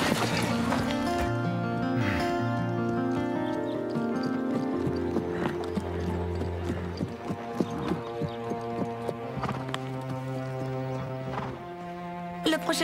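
Horse hooves beat in a steady clip-clop during a riding and show-jumping session, a continuous rhythmic thudding under sustained musical tones throughout.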